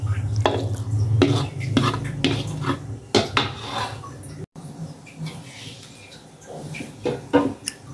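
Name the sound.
mie nyemek noodles being poured onto a plate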